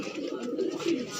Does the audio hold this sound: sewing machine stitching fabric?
no